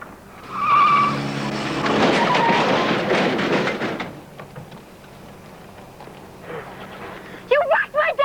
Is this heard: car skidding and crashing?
yes